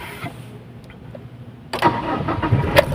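A car engine cranks and starts after a quiet stretch, then settles into a steady, fairly loud idle close by.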